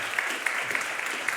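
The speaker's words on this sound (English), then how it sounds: "another warm applause for Betty" Warm audience applause at an award ceremony for a women-in-science prize winner, a dense steady patter of many hands with a few sharper claps standing out, sustained evenly throughout.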